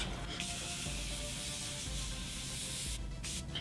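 Morphe Prep and Set setting spray misted onto a face: a soft, close hiss of fine spray that runs steadily for several seconds, with a brief pause near the end and no talking.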